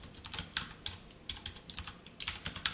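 Code is being typed on a computer keyboard during a Java programming lesson: quiet, irregular clicks of individual keystrokes in short bursts, close by, with no speech.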